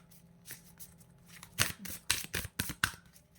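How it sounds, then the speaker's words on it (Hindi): Soft shuffling and sliding of cards as one is drawn from an animal tarot deck, a few quiet rustles building to a cluster of crisp flicks close by. "यहाँ से एक कार्ड मैं और निकालूँगी।"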